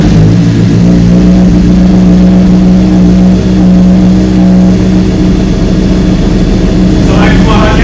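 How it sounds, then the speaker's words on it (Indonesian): Loud, deep engine rumble from a Honda CBR600RR motorcycle's full-system aftermarket exhaust, held steady and droning close by, with a rising rev toward the end. "yang lu tunggu-tunggu adalah suara dari knalpot"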